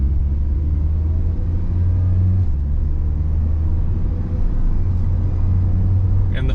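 Steady engine drone of a 2014 Mazda MX-5 hardtop with automatic paddle-shift transmission, heard from inside the cabin while driving: a loud, constant low rumble with a slight rise in pitch midway, no talking.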